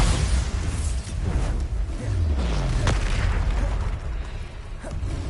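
Bombarda blasting spell going off in the Hogwarts Legacy video game, a heavy booming explosion with a low rumbling burst and crackling debris amid continuous game ambience and effects.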